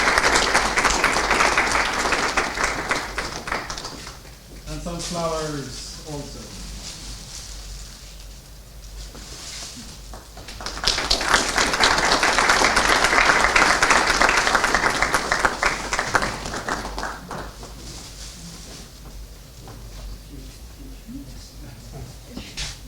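Conference audience applauding the moderator and rapporteurs at a session close, sustained clapping in two long waves with a lull between, and a speaker's voice in the gap.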